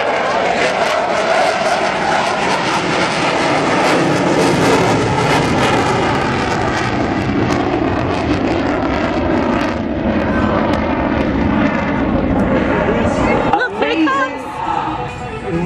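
Blue Angels jets at an air show practice, a loud sustained roar of jet engines rising and shifting as the planes pull up and roll, with an announcer's voice and crowd chatter underneath.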